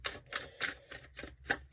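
Tarot deck shuffled in a steady rhythm, six soft, evenly spaced papery bursts roughly a quarter second apart, quiet and close, with no voices.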